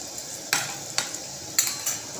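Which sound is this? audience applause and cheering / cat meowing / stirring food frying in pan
stirring food frying in pan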